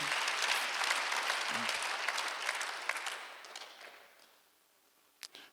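A church congregation claps during a Sunday service, a moderately distant burst of many hands that fades out, followed by a couple of isolated sharp claps.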